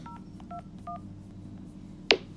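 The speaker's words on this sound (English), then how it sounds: "I'm about to call Ellie and Guy off a random number to see whether either of them answer the phone." Telephone number being dialed: three short paired-tone keypad beeps in a quick sequence, followed by a sharp click near the end, with no talking.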